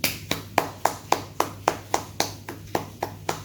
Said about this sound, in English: And I will be there, and I am here clapping for you.